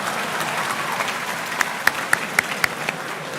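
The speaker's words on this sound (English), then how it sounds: "Clap for him in advance." Audience applauding His Excellency at a university event, a dense steady wash of clapping with several sharper individual claps standing out near the end.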